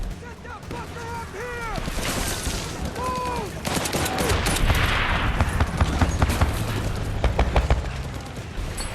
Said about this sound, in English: the suppressing fire from Chuck Tatum's machine gun